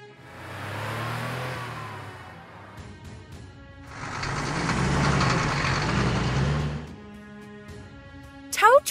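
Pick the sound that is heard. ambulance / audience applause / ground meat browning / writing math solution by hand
ambulance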